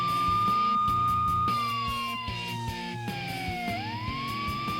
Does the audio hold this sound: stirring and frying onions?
no